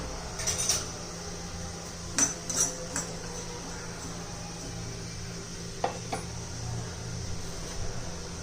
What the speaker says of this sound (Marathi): त्याच्यामध्ये धने जिरं आणि ही चिंच छान मस्त असं भाजून घेऊया